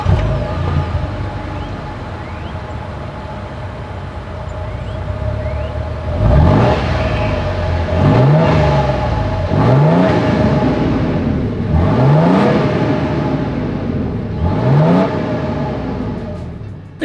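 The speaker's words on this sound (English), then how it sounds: "As always, here is that exhaust clip." A 2025 Toyota Tundra 1794 Edition pickup's exhaust idles with a steady low rumble, then revs sharply five times in evenly spaced bursts, each rising and falling back, loud and close with no talking.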